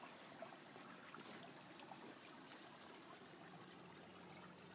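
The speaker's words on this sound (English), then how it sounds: "I don't know if you can hear the water running" A creek runs beneath ice on a winter walking trail in Waterville, Maine, giving a faint, steady trickling hiss, distant and soft without voices.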